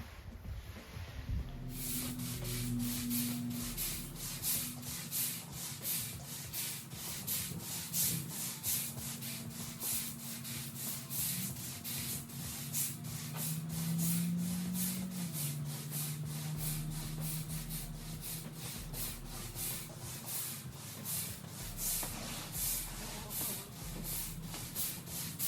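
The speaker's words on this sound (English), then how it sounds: "And then we'll have Desmond jump in with the broom and agitate it in." A broom scrubs cleaner into an epoxy floor in a fast, continuous rhythm of rasping strokes, close and steady for the whole stretch, with no talking.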